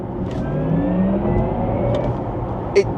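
A Porsche Taycan Turbo electric car accelerates hard from around 50, giving a smooth rising electric whine with a steady road rumble underneath and a brief click near the end.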